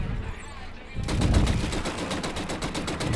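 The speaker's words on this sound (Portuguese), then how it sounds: "Aí tem os outros ali que estão lá embaixo, estão atirando nele." Rapid automatic gunfire crackles in steady bursts during Killzone Shadow Fall gameplay, loud and continuous, with game background noise beneath.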